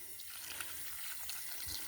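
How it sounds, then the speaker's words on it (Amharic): Tap water running steadily for watering plants in a home garden, a continuous close splashing wash with no voices. "ውሃ ላጠጣ ነው።"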